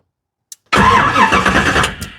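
A 1973 Camaro with FiTech fuel injection cranks without starting: a faint click, then a steady, loud starter churn lasting about a second and a half that never catches, close by and with no talking.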